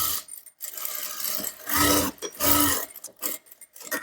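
A sewing machine stitches a katori blouse in several bursts of rapid mechanical whirring, separated by short pauses, close and fairly loud.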